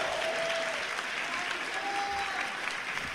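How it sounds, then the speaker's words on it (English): A Comic Con panel crowd breaks into steady, sustained applause, dense clapping filling the whole stretch at an even loudness. "Yes, round of applause."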